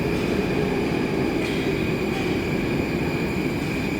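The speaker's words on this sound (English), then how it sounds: "Trains are arriving every couple of minutes." A Moscow metro train arrives at a clean underground station, a steady loud rumble of wheels with a sustained metallic whine and hiss filling the platform, no voices.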